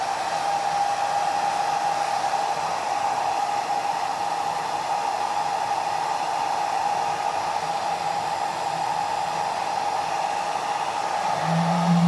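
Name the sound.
hair dryer drying glue on a bottle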